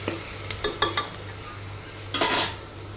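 A brinjal and goat head meat curry stirred in a frying pan, with a steady sizzle under a few sharp scrapes and clacks of the spoon against the pan, loud and close.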